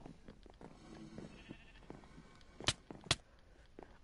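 Sheep bleating in the Minecraft video game, a few short bleats among faint game sounds, with two sharp clicks or hits standing out near the end.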